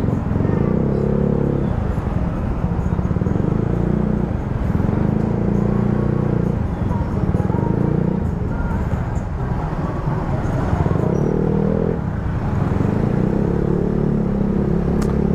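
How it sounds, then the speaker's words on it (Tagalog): A Yamaha Mio Sporty motor scooter rides through busy town streets in Bauan, Batangas, with its engine droning steadily up close while surrounding road traffic rumbles and swells around it. "Inabot na ng traffic."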